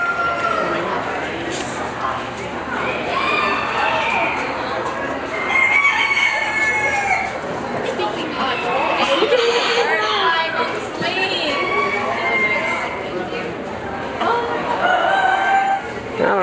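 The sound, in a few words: chickens and roosters crowing and clucking in a barn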